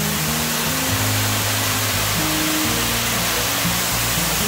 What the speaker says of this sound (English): another view behind a waterfall.